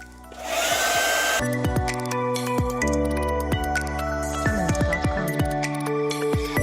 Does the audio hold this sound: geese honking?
no